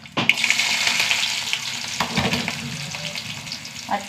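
Mustard seeds and small shallots fry in hot oil with a steady, loud sizzle and crackle that runs throughout, with a few sharper spits and a stir near the end.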